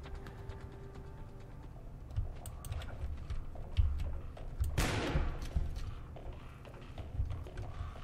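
Gunfire in the video game Cube Strike 3D, rapid clicky shots peppering a low rumbling background, with one sharper louder burst near the middle, all fairly faint.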